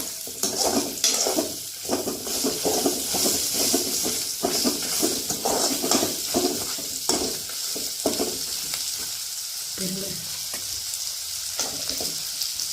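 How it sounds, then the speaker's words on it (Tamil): Bitter gourd sautés in a pan for a spicy thokku, a steady crackling sizzle throughout with frequent scraping stirs of a spoon against the pan. "நல்லா வதங்கணும். வதங்கட்டும் நல்லா."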